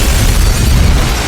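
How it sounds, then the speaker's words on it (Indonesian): A bomb blast wrecking an office in the action film The Beekeeper: a loud, dense, sustained roar of explosion and debris filling the whole short stretch without pause. "maka bom itu otomatis meledak dan akhirnya kantor tersebut hancur lebur"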